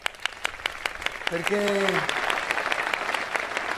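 Audience applause at a live tribute show to a singer: scattered sharp claps swell into sustained clapping while a voice speaks and a brief tone sounds over it.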